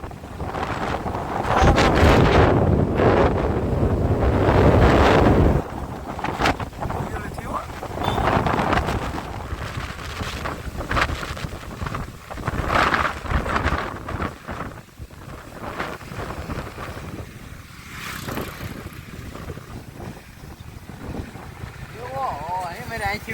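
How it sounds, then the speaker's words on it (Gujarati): Strong storm wind buffets the microphone on a rooftop in heavy gusts, loudest early on, with a person talking over the roaring, rumbling noise throughout. "ધાબા ઉપર આપણે ઊભું નથી રહેવાતું, એટલો પવન ફૂંકાય છે."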